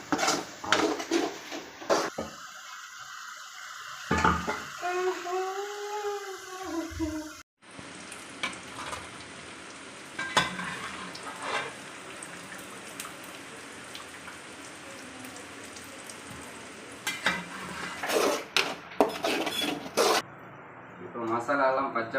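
Masala for beef sukka being stirred and fried in a pan, with a steady sizzle and repeated scraping stir strokes at close range, including a brief quiet gap partway through.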